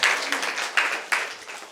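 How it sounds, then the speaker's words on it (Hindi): An audience applauds at a gathering at Triratna Buddh Vihar in Dongargarh, Chhattisgarh. Dense, moderately loud clapping rolls on in a few swelling waves for under two seconds. "एक बार जोरदार तालियां होनी चाहिए।"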